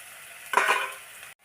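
Onion frying in a pan with a sprinkle of salt, heard as a brief close burst of sizzle and stirring scrape that rises, holds for under a second, then cuts off.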